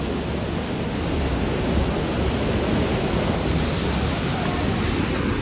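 Bhalu Waterfall near Nainital roaring as a constant, dense rush of falling water, loud and close, with no breaks throughout.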